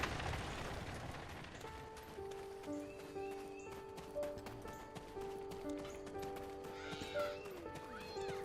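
Horse in the game Black Desert, hooves clip-clopping and a whinny amid game music tones, with someone talking over it.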